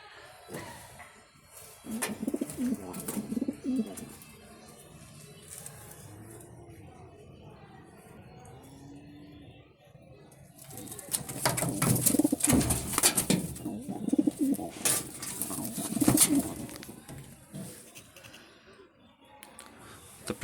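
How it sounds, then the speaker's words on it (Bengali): Racing pigeons coo softly in low, rolling bursts inside a loft, with a quiet stretch in between and a few faint knocks and rustles nearby. "কবুতর এখন একটু উড়াই দেখাই"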